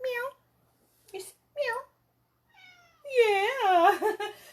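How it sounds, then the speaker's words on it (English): A hungry house cat meows close to the microphone, with a few short meows followed by a longer, wavering drawn-out call, and silence between them. "She only meows when she wants to eat."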